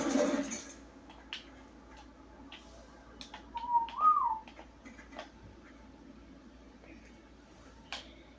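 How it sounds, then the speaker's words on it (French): Someone whistles once, a short rising-and-falling note in the middle, faint against a quiet background with scattered soft clicks and taps. "Siffler."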